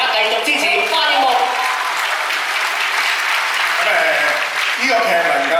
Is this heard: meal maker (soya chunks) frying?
no